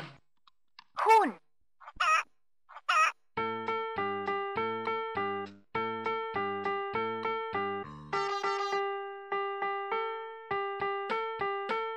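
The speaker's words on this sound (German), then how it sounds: "Huhn." A 2009 VTech Singspaß toy microphone plays an electronic chicken cluck, a few short bright squawks at the start, followed by a steady run of beeping synthesized melody notes.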